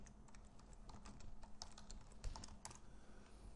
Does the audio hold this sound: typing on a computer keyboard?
yes